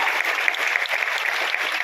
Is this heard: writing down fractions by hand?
no